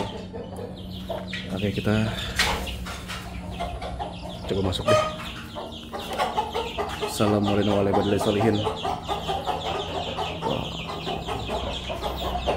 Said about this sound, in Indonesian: Tuh banyak ayam jago di sini.